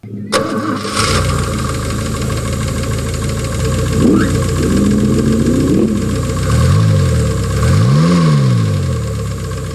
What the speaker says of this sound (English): An original 149 Holden 6-cylinder engine from 1964